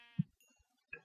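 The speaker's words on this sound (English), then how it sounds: "A couple random sheep over here." Two short bleats from a sheep in a survival video game set in a wizard world, one near and one fainter, with quiet gaps between.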